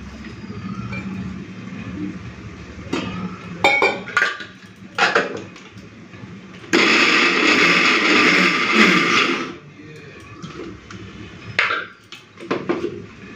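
Raw potato peels, green chillies and garlic are ground with a little water, probably in a mixer grinder. A loud, steady whirring grind runs for about three seconds between clinks and knocks of kitchen utensils.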